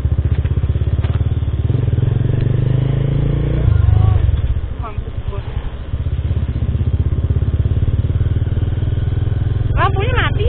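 A motorcycle engine at night near Monas idles and revs repeatedly, loud and close, the throttle rising and dropping in waves while people talk over it.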